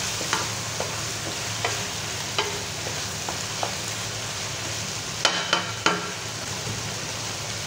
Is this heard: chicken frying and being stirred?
yes